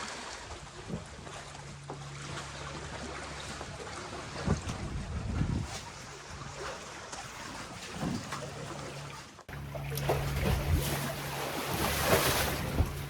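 Sailboat running under two genoas in a light breeze on the open ocean during a passage from Cape Town to St. Helena, with a steady wash of water and wind along the hull and occasional louder surges, no voices.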